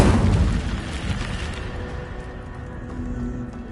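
An Incendio fire spell bursts out with a loud whooshing boom at the start, then the roar of flame slowly fades into a lingering crackling rumble.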